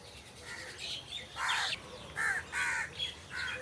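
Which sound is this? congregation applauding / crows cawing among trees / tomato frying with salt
crows cawing among trees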